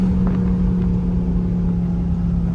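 A Dodge Charger engine pulling hard in second gear, a loud, steady, close droning roar with a strong low hum held throughout.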